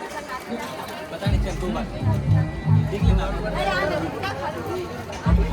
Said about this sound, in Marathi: बाबा बाबा गर्दी ऐकतो गर्दी बघा